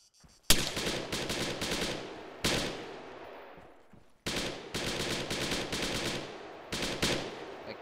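Automatic gunfire in the Arma 3 game rings out in several loud rapid bursts, each followed by a trailing echo, with short gaps between volleys.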